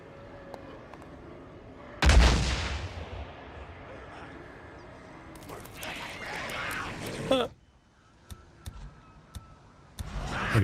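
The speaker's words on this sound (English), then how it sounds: "Start with a flashbang just to pull them out." A flashbang goes off in the open-world zombie game Days Gone with a sudden sharp boom and a long rumbling decay, followed by muffled game ambience and later crashes as a player talks over it.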